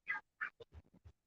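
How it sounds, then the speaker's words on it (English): Ducks quack in a quick series of short calls while chasing each other, a few louder nasal quacks followed by softer lower ones, faint and at a moderate distance with no talk over them. "The ducks are chasing each other."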